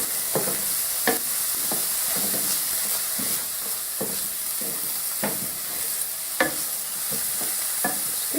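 Chilli frying in olive oil in a pan while being stirred, with a steady close sizzle and irregular scraping clicks of a utensil against the pan, no talk.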